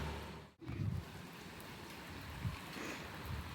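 Steady rain hisses across the whole clip, broken by a brief dropout near the start, with a few soft thumps of drops hitting a surface.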